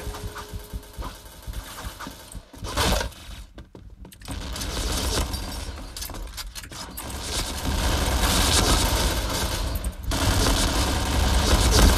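Gunfire in the shooter game Point Blank with an AUG A3 Toy rifle: bursts of rapid shots and a clicking mechanism over a busy, loud background, with no speech.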